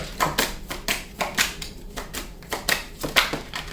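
Tarot cards are shuffled and drawn by hand in a series of close, crisp riffling and slapping bursts at a steady rhythm, with no talking.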